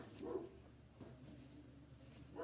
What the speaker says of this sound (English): I apologize that if you hear the dog.